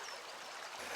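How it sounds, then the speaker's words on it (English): Small, fast-flowing River Arnott near Lisburn, running into the Lough, a steady faint rushing wash of water heard alone. "This river here is the River Arnott, which is a small stream which flows into the Lough at Lisburn."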